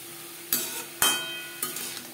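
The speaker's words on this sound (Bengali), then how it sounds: "লবণ হলুদ কাঁকরোলের সাথে বেশ ভালো করে মিক্স করে দেবো" A spoon stirs and scrapes through bitter gourd (kakrol) pieces tossed with turmeric and salt in a pan, three distinct clinking strokes over a faint sizzle, quiet and close.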